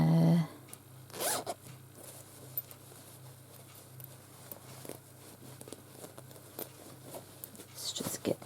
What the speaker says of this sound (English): The zipper works fine.